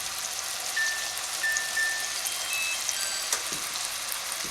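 Onion and garlic sizzle steadily in a hot pan, a close, even crackling hiss with a few faint pops and no talk, heard while shepherd's pie is being made.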